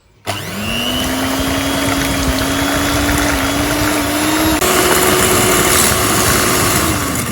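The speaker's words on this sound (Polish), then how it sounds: "wsypujemy cukier i od razu y, zaczynamy miksować." An electric hand mixer starts up sharply and runs steadily, beating sugar into orange cake batter made with whole oranges, with a constant motor whine that shifts slightly in pitch partway through, loud and close with no talking.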